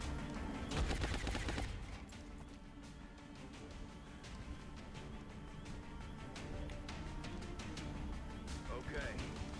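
Rapid bursts of gunfire from the squad firefight in XCOM Long War, a dense crackling volley early on, then scattered lighter shots under a steady ambient game bed.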